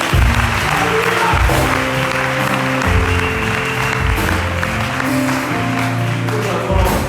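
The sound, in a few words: church congregation applauding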